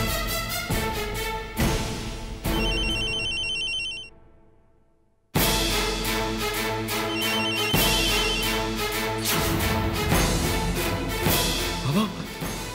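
A phone rings with an incoming call from Jiya, a chiming electronic ringtone repeating in bursts over dramatic background music, cutting out briefly before the music swells back.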